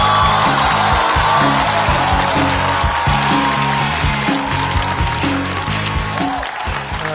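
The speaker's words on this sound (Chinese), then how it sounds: "掌声欢迎" Audience applause welcomes a comedian onto a stand-up roast stage: loud, continuous clapping fills the whole stretch over a steady pulsing beat.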